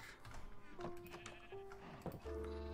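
Several short sheep bleats from Minecraft, layered over a quiet game soundscape with a few steady musical tones, faint, with a voice briefly speaking in between.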